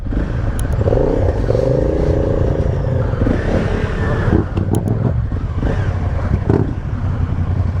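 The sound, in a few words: motorcycle engine while riding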